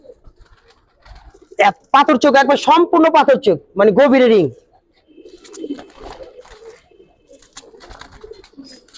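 Giribaz pigeons coo softly and repeatedly close by, their low murmuring mostly under someone talking loudly in the foreground.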